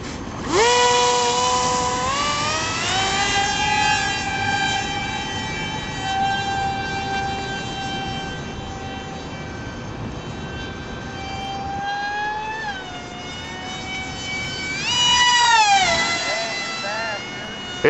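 A model aircraft with a carbon fiber propeller drones past with a high, tonal whine that climbs in pitch as the throttle opens, settles, then surges again near the end, with people talking faintly underneath.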